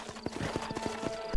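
Horse hooves clip-clop in the Red Dead Redemption video game on Xbox 360, a quick, fairly close run of about a dozen hoof strikes over a steady game background, with no talking.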